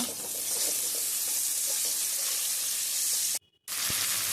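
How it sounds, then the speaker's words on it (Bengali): Sliced bitter gourd and potatoes fry in a pan with a steady, close sizzle that cuts out briefly near the end before resuming. "উচ্ছে আলু ভাজা"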